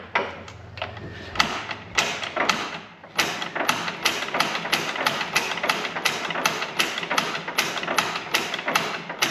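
An old, long-idle Caterpillar engine with little compression is cranked over by the starter, giving a steady run of rhythmic thumping compression strokes that stays close and loud throughout, with no one speaking.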